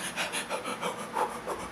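Rapid, rhythmic panting breaths like childbirth breathing, short quick exhalations repeating steadily and close, with no other sounds.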